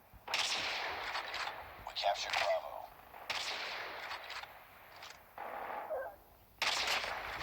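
Gunfire in the mobile shooter Call of Duty Mobile, with repeated loud bursts of automatic fire separated by short gaps and a couple of sharper single shots, all close and punchy.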